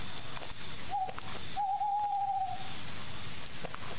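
In a video game, an owl gives two steady hoots over constant rain-like ambience at a camping spot at night, the second hoot held longer, with no talking.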